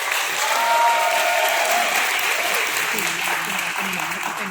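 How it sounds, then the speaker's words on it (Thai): An indoor audience applauding at a talk, dense and sustained clapping from many hands at steady loudness throughout, with voices faintly mixed in. "ขอเสียงปรบมือให้หน่อยครับ"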